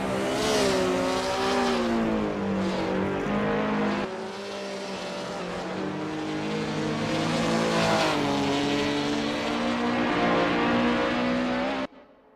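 Classic touring cars race at the Oesterreichring 1979 chicane in Assetto Corsa, with engines droning and rising through the gears. One loud close car revs up and down before the sound cuts off abruptly.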